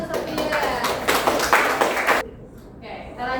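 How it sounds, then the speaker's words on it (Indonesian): A classroom claps for a student named Sofia during a lesson on teen emotion control, a lively burst of hands under children's voices that stops abruptly, leaving quiet murmuring. "tepuk tangan untuk Sofia"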